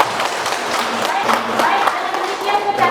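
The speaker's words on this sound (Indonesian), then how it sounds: "Tepuk tangan buat Kakak Noval." A classroom claps for a student during a chemistry lesson, a short burst of scattered, moderately loud applause from a small group, with voices mixed in.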